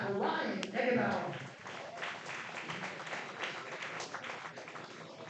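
Crowd applause at a Post 22 Hardhats baseball game honouring senior Ryan Eggenauer, steady clapping and cheering sustained for several seconds with an announcer's voice briefly over the start.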